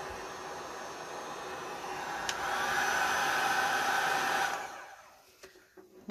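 A Wagner Furno 550 heat gun runs steadily with a loud, close, fan-driven roar and hiss while cleaning up epoxy drips, its pitch rising midway, then it shuts off and the blowing fades into near silence with a few clicks.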